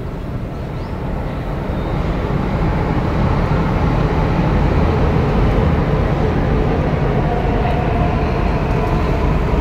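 A steady, loud rumble fills a moving train carriage, a constant roar of wheels and motion with no break.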